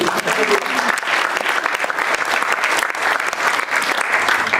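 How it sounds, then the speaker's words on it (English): An audience bursts into loud, dense applause that holds steady throughout, a continuous wash of clapping from a large crowd. "So give yourselves a big applause for that one, please."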